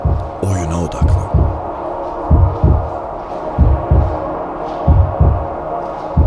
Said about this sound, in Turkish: Kalp atışın vücudundan çıkıp stadyumu sarıyor.